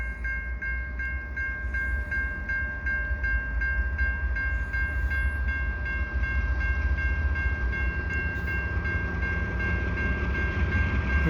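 A CN freight train rolls slowly past the Des Courcelles Street crossing in Montreal: a low, steady rumble of the train under the rapid, evenly repeating ring of the crossing bell, all close and continuous.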